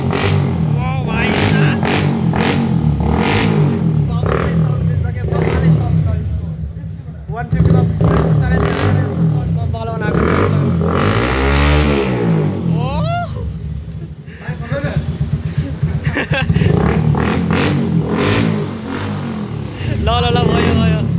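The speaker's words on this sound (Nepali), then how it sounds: "एउटा यस्तो बाइक छ नि पल्सरको 150 बाइक छ यस्तो बब्बाल साइलेन्सर छ नि हालेको" A Bajaj Pulsar 150 motorcycle fitted with a Bullet silencer revs loudly at a crowded fair in Kathmandu, its engine swelling in one strong surge mid-clip over a constant din of crowd chatter and talking.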